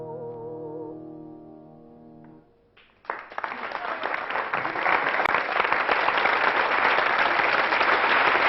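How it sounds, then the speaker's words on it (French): Loud audience applause bursts in after a quiet sung musical passage fades, a dense sustained wall of clapping from a crowd that continues steadily to the end. "Et vous applaudissez, admirez son effort."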